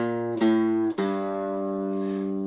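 On a three-string cigar box guitar, a few plucked notes ring out clearly with a twangy, sustained tone, each new pluck cutting off the last.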